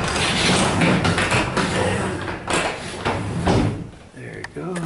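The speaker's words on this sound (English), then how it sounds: "So let's open the door up." A heavy garage door with extension springs rumbles and rattles as it rolls open, a loud, continuous mechanical grinding that lasts several seconds close by.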